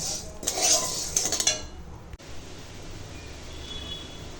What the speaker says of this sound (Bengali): এখন মুগ ডাল একটু শুকনো খোলায় গরম করে নিচ্ছি